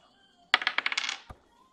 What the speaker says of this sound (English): Quick dice roll to handle this one.